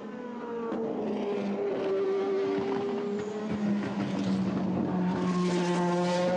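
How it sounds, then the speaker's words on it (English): A GT race car screams past on the final part of a lap at Spa-Francorchamps, its high engine note rising and falling through gear changes, with a faint whine and tire noise at moderate distance. "This is our race leader, the five car of Frezza. Just bringing the car around this final part of the lap"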